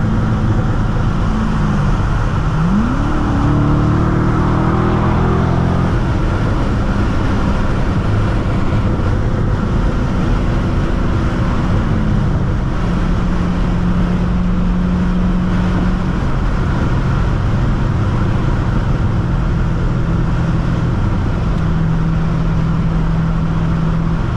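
A 2006 Chevrolet Corvette Convertible with a six-speed manual accelerates, its engine revving up through rising tones with a gear change, then settling into a steady loud drone under road and wind noise from inside the cabin.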